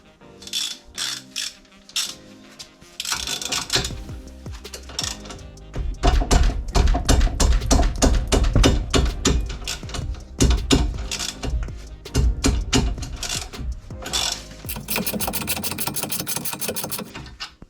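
Ratcheting and mechanical clicking from a 19 mm wrench loosening the brake caliper bracket bolts on an Opel Corsa D during a disc and pad change, a dense run of rapid clicks in bursts, close and loud, with no talk.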